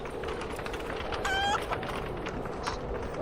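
Chickens in the video game Lord of the Rings Online give a single short, clear cluck over a steady, dense ambient background.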